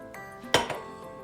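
A spoon clinks against a glass while orange and strawberry juice is stirred with added water, a single sharp clink followed by a fainter second tap over a quiet background.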